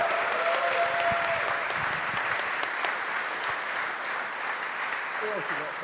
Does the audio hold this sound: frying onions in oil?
no